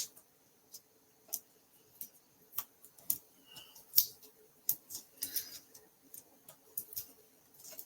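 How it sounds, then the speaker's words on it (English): A wristwatch clicks repeatedly during paper card crafting, soft close ticks at an irregular pace over quiet rustling. "Sorry, my watch keeps clicking."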